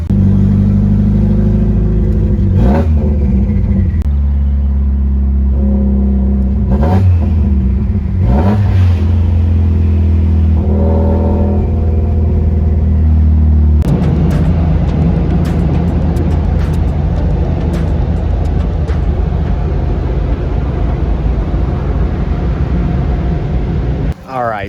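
A built Subaru STI rally car idles and revs loudly up close, with repeated throttle blips rising and falling before it pulls away into a sustained driving drone.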